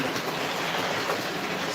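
A second-hand Christmas toy train runs with a steady, dense whirring and rattling clatter, close and continuous with no voices over it.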